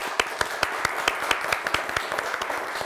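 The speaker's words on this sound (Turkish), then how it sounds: "Ece Hanım'a bir alkış gönderelim." A studio audience on a Turkish TV word-game quiz show gives a short burst of applause, with sparse, distinct handclaps in an even rhythm.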